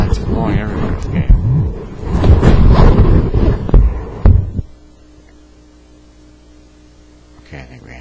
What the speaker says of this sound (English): It's a windstorm, it's so windy in here. Oh my god, it's blowing everywhere.